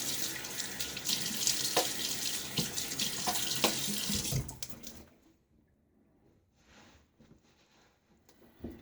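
Tap water runs steadily into a sink with splashing as a face is wetted before a shave, then cuts off about halfway, leaving quiet drips and small handling sounds.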